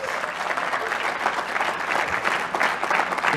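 Audience clapping for themselves at a talk, a dense, continuous round of applause from a sizable crowd, loud and even for several seconds.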